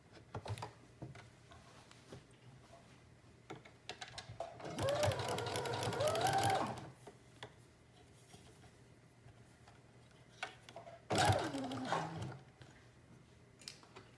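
Two short bursts of a sewing machine stitching a teddy bear jacket neck collar seam at a 5/8 inch allowance, close and moderately loud, separated by quiet handling noise.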